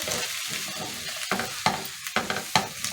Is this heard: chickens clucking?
no